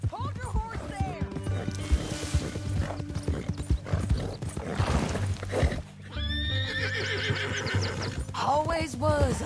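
A horse from the video game Red Dead Redemption 2 whinnies loudly several times over steady clip-clopping hooves, with game music or ambience underneath and a louder neigh near the end.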